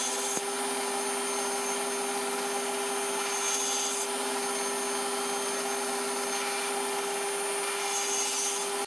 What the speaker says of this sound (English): I then raised the blade to start the shoulder cuts at the end of each tenon.